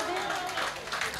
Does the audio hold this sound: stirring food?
no